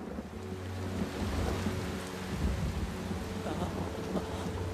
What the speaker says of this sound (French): Vous n'aimez pas la pluie, jeune homme?